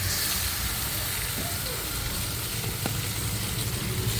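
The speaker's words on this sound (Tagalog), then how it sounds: "Parang ipiprito natin siya ng konti sa ating sibuyas." Chicken frying with onions in a pan for adobo gives a steady, close, even sizzle with a constant hiss throughout and no talking.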